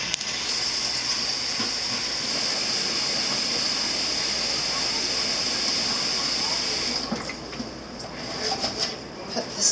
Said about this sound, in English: I'm going to fill up the water so we can start boiling our eggs.